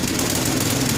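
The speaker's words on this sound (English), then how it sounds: "I'm going to perform a snap throttle test where I hold the throttle shut and let it snap open to wide open throttle" Estate by Murray 8/27 dual-stage snow blower engine at wide open throttle after the throttle snaps open, a loud, steady mechanical roar with constant vibration close by.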